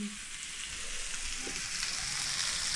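Coated frozen prawns fry on a hot tawa with a soft, continuous sizzle and crackle. It is fairly quiet and steady, with no talking.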